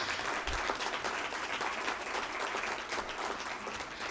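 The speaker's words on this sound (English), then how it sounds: "A round of applause, please" Applause for a memento presentation at a valedictory ceremony of a civil society conclave in India, dense, even clapping from a sizeable audience sustained throughout.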